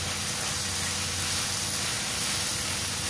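Mint and coriander leaves frying in a pan for a chicken gravy, giving a steady, close sizzle and hiss that holds evenly throughout with no talk.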